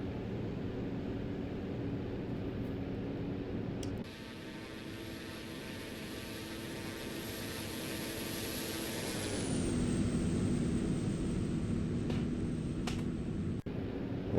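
A Kodiak 100 air taxi's turboprop engine spools up to takeoff power, a loud steady roar with a high whine that rises sharply, then settles into a sustained drone as the plane climbs away.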